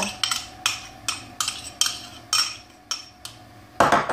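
A spoon taps and scrapes against a bowl while melted butter is stirred into a cake mixture, about ten evenly spaced clinking strokes, close and crisp, with no voices.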